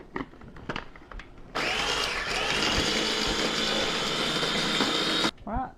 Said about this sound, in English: I'm going to run mine through a blender,